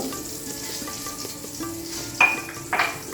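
Bay leaves and cumin seeds sizzling in hot oil for Kashmiri dum aloo, a soft steady frying hiss with a couple of sharp metallic clinks of a utensil against the pan near the end.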